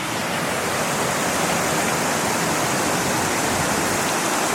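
Ashgill Force waterfall pouring down beside a footbridge, a steady, loud, dense roar of falling water filling the whole clip without a break and with no voices.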